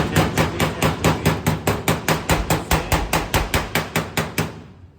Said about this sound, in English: But I got to hammer this in now.